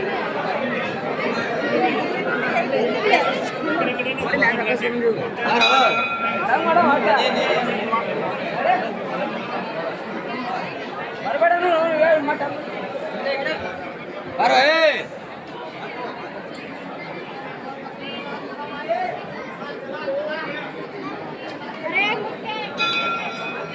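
Dense crowd chatter fills a packed temple courtyard during darshan at Ganagapur, many overlapping voices with occasional bell rings and clinks, continuous and close throughout.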